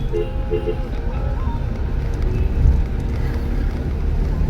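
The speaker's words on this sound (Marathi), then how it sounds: "ट्रॅफिकच ट्रॅफिक इथे खूप ट्रॅफिक आहे" Busy road traffic rumbles continuously, with engine drone and passing vehicles nearby and a brief louder surge midway.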